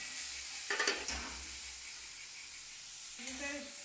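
Spiced masala with chopped tomato frying in a pan, a soft sizzle with brief bursts of stirring and scraping, fairly quiet and close.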